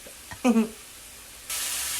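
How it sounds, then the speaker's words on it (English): Beef fajita meat hitting a hot pan on the stove and starting to sizzle, a steady close hiss that begins abruptly and holds, after a short voice. "I'm going to get a sizzle on there."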